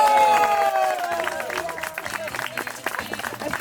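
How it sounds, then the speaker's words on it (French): An audience applauds and cheers for a volunteer named Croustillant at a live comedy show, steady clapping and crowd noise filling the room, with a host's voice and tonal music running over it. "on applaudit Croustillant"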